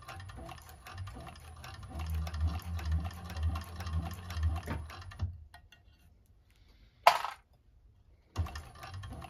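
A 1341 cylinder arm sewing machine top stitches a bag made from canvas-like fabric, a close, steady mechanical run of rapid stitching that stops halfway, followed by quiet and a couple of sharp clicks.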